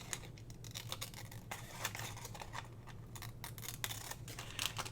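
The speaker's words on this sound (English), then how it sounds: "And I always cut inside my score line. And then we'll cut this little piece off down here." Scissors snipping through paper along a scored line while trimming a journal pocket, a rapid series of close, crisp cuts with short pauses between bursts.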